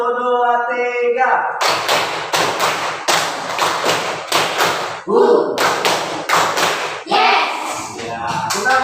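A school class claps together in a counted rhythm, sharp groups of one, two and three hand claps following spoken cues, with children's and a teacher's voices mixed in.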